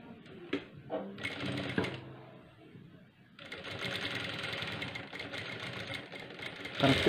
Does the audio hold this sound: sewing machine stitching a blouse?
yes